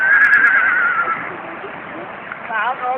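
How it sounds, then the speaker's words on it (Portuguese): A horse gives a loud, close whinny that wavers and fades over about a second, then a second shorter neigh follows near the end, with people talking faintly in the background. "Enquanto isso, Felipe botando o cavalo pra comer."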